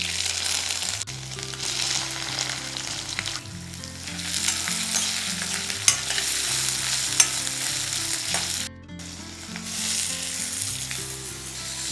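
Ginger and green chili paste with cumin seeds sizzling in hot oil in a kadai, a loud continuous frying hiss close up with brief stirring breaks and music underneath.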